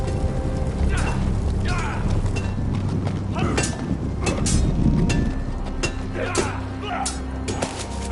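Horse hooves clip-clopping at a walking pace, with wind noise and a low background rumble, voices faintly mixed underneath.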